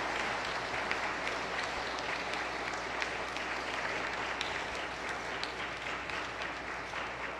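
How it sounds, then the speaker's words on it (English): A church congregation applauds graduates in a steady wash of clapping that holds evenly throughout, moderately loud and without pause. "So let's give them a round of applause again."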